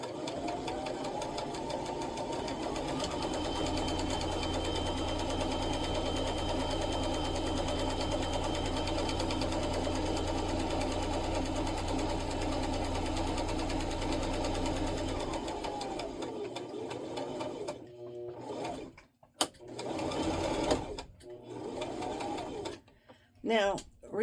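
A sewing machine runs in steady stitching bursts, going back and forth over a seam on a handmade product, loud and continuous for about fifteen seconds before stopping, with a person talking over and after it.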